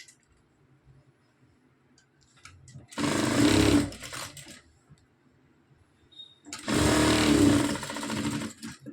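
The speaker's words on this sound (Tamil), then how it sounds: "அது இப்படி மேலேயே வச்சு ஒரு தையல் ஒன்று நான் போட்டு எடுத்துக்கிறேன்." A sewing machine stitches along the fabric edges of a blouse sleeve in two loud, close, sustained bursts of rapid mechanical whirring, separated by a quiet pause, with no voices.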